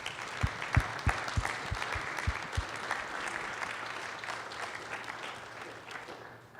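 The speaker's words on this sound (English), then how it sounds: "if we can give a quick round of applause to our conference committee and our presenters" An audience at the APA Utah Spring Conference, a land use and housing planning conference, claps in a broad, steady round of applause with a few low thumps early on, then the clapping slowly fades toward the end.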